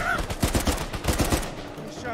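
Gunfire in the video game Uncharted 4, a quick burst of several sharp shots in rapid succession, loud and close, fading into a softer rumbling ambience.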